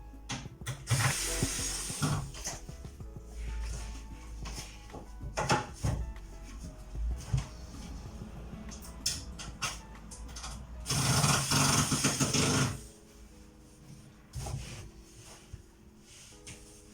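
A cordless screwdriver drives a screw into wood while a homemade corner desk is built, giving close bursts of whirring motor and clattering ratchet clicks with short pauses and one long, loud run.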